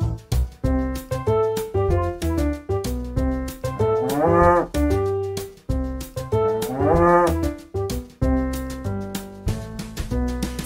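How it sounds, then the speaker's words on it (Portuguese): Cartoon cow moos twice in long, rising calls, set against a bright, steady children's farm-song backing track that plays loudly throughout. "E nesse sítio tinha uma vaca, ia, ia, ou. Era mu pra cá, era mu pra lá"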